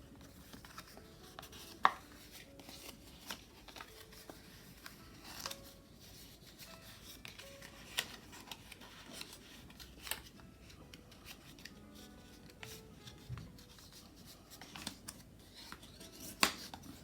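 Craft paper being scored along a fold line, quiet scratchy strokes with a few sharper taps, close and faint, with no talking.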